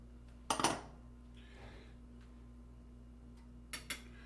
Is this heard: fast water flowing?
no